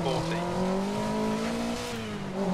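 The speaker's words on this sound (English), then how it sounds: "Oh yeah, listen to that engine." A rally car engine in the Dirt Rally video game on a stage in Finland revs hard and continuously, a loud, close whine rising and falling over a couple of seconds.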